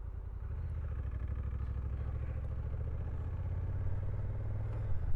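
A Honda NT1100 DCT motorcycle being ridden on an open road, a steady low engine drone with a fine rhythmic pulse and wind noise, held nearly constant before easing off near the end.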